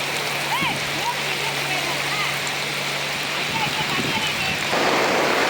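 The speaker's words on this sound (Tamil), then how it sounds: "மழை பெய்யுது, சரியான மழை." Heavy rain pours on an open field in a steady dense hiss, swelling louder near the end. Faint voices can be heard under the downpour.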